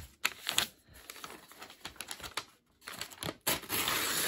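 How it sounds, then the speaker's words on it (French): A sheet of paper cut in half, close crisp snips and tearing rustles in quick uneven bursts with short pauses, ending in a steadier papery scrape. "on va prendre une feuille, je vais la couper en deux"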